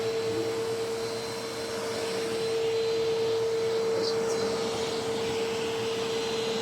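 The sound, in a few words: Eureka AirSpeed upright vacuum cleaner running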